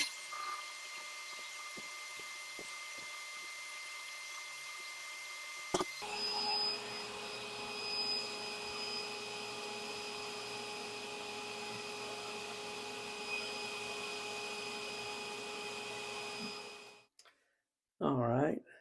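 A bench buffing machine used for polishing tobacco pipe stems spins up after a quiet start, then holds a steady, loud motor whine with a constant hum for over ten seconds before winding down near the end.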